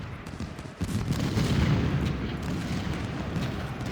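Artillery fire in the Ultimate General Civil War game at Chickamauga, a dense rumbling wash of distant cannon booms and musketry that swells after a brief lull and rolls on continuously.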